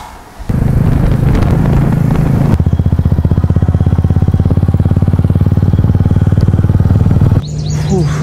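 An early-morning motorcycle ride to the Wipro Gopanapalli campus in Hyderabad: a steady, loud engine drone with a fast pulsing throb that holds for several seconds, then eases, followed by brief bird chirps near the end.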